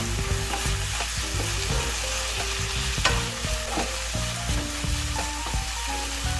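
Paneer masala with fresh coriander leaves sizzles on a low flame, a dense continuous frying hiss close by, broken by frequent scraping and clinking of a spoon stirring the pan.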